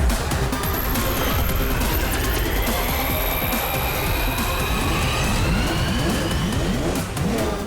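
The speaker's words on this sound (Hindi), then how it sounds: "रफ्तार पे रफ्तार, R7 से निकले सुपर स्पीडो कार।" The cartoon car Super Speedo speeds off with its engine revving, a loud, continuous roar with rising and falling pitch sweeps that carry on without a break.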